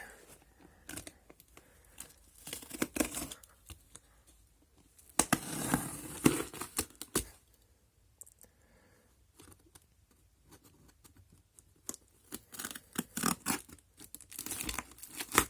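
Cardboard ammunition delivery package from Target Sports USA being cut open, with scattered tearing, scraping and crinkling sounds, one longer ripping stretch midway, close and fairly quiet with gaps between bursts.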